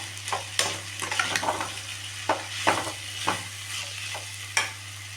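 Vegetables for wheat rava kichadi, seasoned with chilli powder, fry in a pan under repeated stirring: sharp spoon scrapes at an irregular pace over a steady sizzle, close and clear, with a low constant hum beneath.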